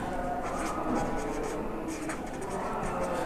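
Pen writing out a trigonometry problem on paper, a soft continuous scratching with short strokes, close and fairly faint, with a voice talking lightly underneath.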